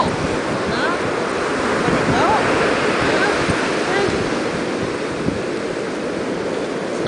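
Ocean waves wash onto a beach in a steady, broad roar, mixed with gusting wind noise against the microphone.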